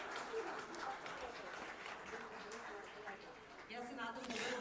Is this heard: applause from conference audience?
yes